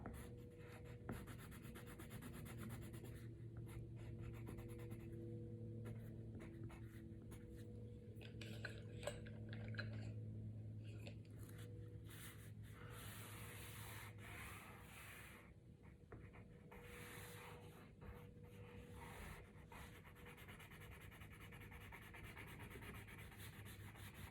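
Colored pencil scratching back and forth on paper during a drawing session at home, a soft, steady rubbing texture that continues throughout with no talking.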